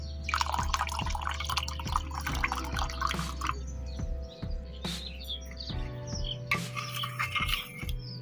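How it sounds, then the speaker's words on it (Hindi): Water pours into a glass holding sugar, then a spoon stirs it, with dripping, trickling and clinking in a quiet outdoor setting and no talk. "हुण पानी पा के मिक्स करके फिर विच पाऊंगी तुखम लंगा"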